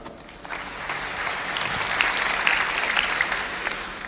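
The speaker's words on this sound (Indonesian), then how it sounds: "Beri tepuk tangan." Steady applause from a church congregation during a worship service, a dense even patter of many hands building slightly and holding for about four seconds, with no voices over it.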